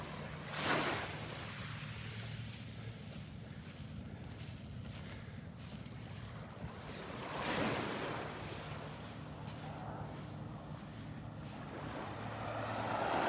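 Small waves rolling in on Vanderbilt Beach, soft wash of surf with two gentle swells breaking at intervals over a low, steady wind rumble.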